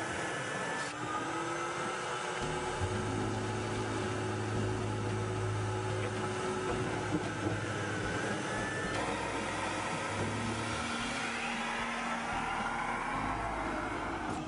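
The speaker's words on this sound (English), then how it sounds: "So we'll use the Willy Vac to vacuum them out." A Willy Vac vacuum pump runs continuously, sucking up debris dropped beneath aircraft engines, a steady droning hum with shifting tonal whine that holds at an even level throughout, with no talk.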